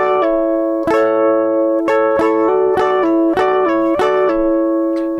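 Electric guitar plays a solo as a fast hammer-on and pull-off run, with clear repeated note attacks and ringing sustained tones, close and loud without any voice.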